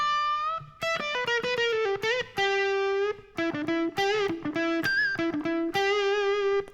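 A distorted electric guitar plays a solo, a quick run of picked notes and bends with pinched harmonics. It is loud and continuous, with no voice over it.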